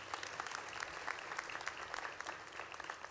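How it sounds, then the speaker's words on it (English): Steady applause from a large crowd at a graduation ceremony, dense clapping sustained throughout with no break. "give yourselves a big round of applause"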